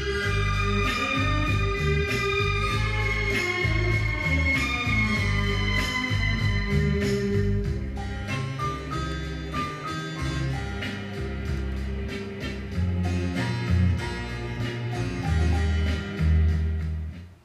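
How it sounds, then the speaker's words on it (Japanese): An old Victor stereo plays a test record in an echoey Western-style room. The music runs loud and continuous, with boomy, muffled bass and harsh upper mids. "洋間は反響音が多く、 低音がこもりやすくなり、 また中高域もやけに耳につく感じで、 高音もツヤのない音に聞こえる場合があります"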